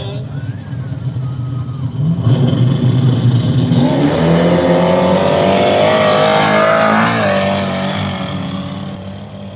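Nitrous drag race cars launch down the strip at an arm-drop event, a loud roaring engine surge rising after a couple of seconds and holding at full volume before easing off, with a crowd and announcer voice underneath.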